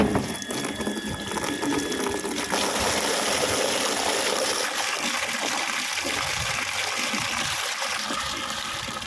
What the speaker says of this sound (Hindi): फिर खाना बनने के बाद से 1 बाल्टी भर लेती हूँ।